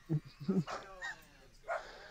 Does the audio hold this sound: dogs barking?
yes